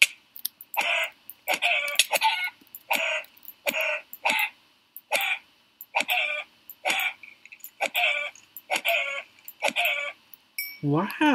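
Minecraft chicken clucking in a string of short, evenly spaced bursts, a dozen or so over eleven seconds, close and fairly loud, with a louder squawk at the end and no talk.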